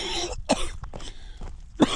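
Several harsh coughs from a runner with a lung illness during a trail marathon, close and loud, come in uneven bursts, with a final strong cough at the end.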